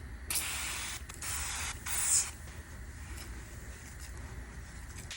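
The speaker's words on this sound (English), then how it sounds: "We're gonna scuff the brake light and spray it." Several short hissing bursts of spray paint on a scuffed car brake light, close by, separated by brief pauses, over a steady low background rumble.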